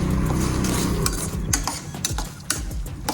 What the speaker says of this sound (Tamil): போட்டுட்டு நல்லா கலந்து விட்டுக்கலாம்.